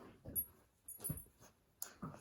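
A dog whimpers softly in short, faint bursts during a yoga class, with quiet breathing between the whines and no talk over it.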